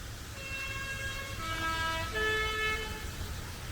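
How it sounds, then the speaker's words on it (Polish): A bus on a winding forest road sounds its horn at a curve, giving a melodious multi-tone toot that changes pitch partway through, heard at moderate distance over a steady background rush of nearby waterfalls. "a to jadące autobusy, które, które trąbią na zakrętach"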